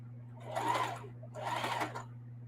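Sewing machine running two short zigzag-stitch bursts on a camo tote bag strap, a soft mechanical whirr separated by a pause, over a constant low hum.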